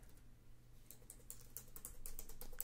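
Quick, steady typing on a computer keyboard while Python code is written, close and fairly quiet, with a run of soft key clicks that thickens toward the end.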